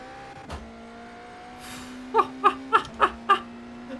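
Race car engine in a racing video game played on a Thrustmaster T818 direct drive wheel, a steady engine drone, then a quick series of five sharp rhythmic bursts as the car shifts up to seventh gear.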